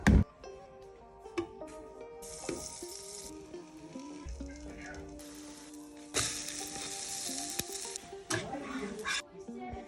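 Pancake batter sizzles steadily in a hot pan in a home kitchen, a continuous close frying hiss with occasional clinks and stirring noises.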